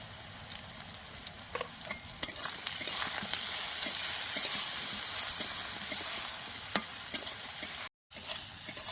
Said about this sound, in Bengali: বেগুনটা বেশ সুন্দর দেখে ভাজা ভাজা হয়ে গেছে লাল লাল হয়ে